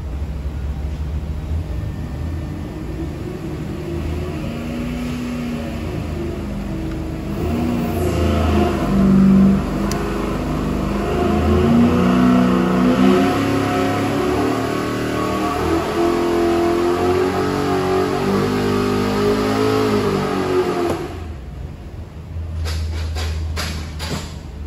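A 406 cubic-inch small-block Chevy V8 on an engine dyno, running a steady loud drone that climbs in pitch through a pull, then drops off near the end before the roar resumes, with no talk over it.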